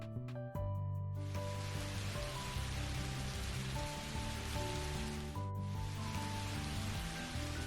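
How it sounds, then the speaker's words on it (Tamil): Steady heavy rain falls on a cozy rainy morning, a dense continuous wash of droplets that starts abruptly after a second and runs loud and unbroken, with a low tonal hum mixed underneath. "எதிர்பார்த்த மாதிரியே நல்ல மழை வந்துருச்சு"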